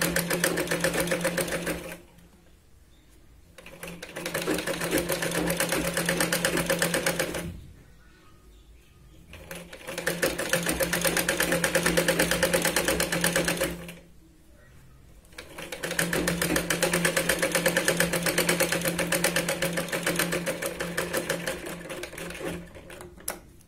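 Sewing machine stitching the waist strip of a large Katori blouse, heard as a close, rapid mechanical whirring with a dense clatter in several long runs, split by short quiet pauses.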